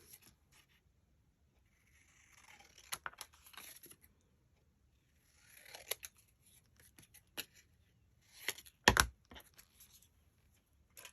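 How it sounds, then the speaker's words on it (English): Scissors fussy-cut card-stock paper in quiet, scattered snips and crisp slicing rustles, with one sharper, louder cut near the end and no talking. "I'll use my fussy cut and scissors."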